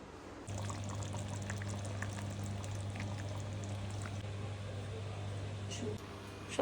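Mutton boiling in a pot, heard as a steady bubbling, watery rush and a low hum that continue evenly for several seconds, close by and moderately loud, with no talking.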